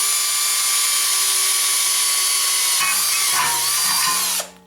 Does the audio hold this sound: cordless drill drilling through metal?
yes